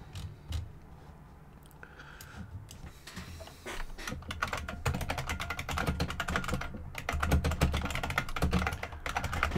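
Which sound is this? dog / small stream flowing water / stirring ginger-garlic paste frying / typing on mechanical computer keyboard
typing on mechanical computer keyboard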